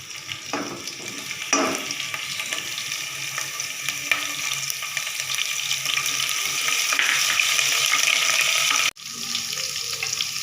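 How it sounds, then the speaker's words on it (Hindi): Cumin seeds and green chillies fry in hot oil with a steady, bright sizzle, broken by a few clattering stirs and a brief dip near the end; no one speaks. "जीरा हमारा और हरी मिर्चें ऑयल में भून चुकी हैं"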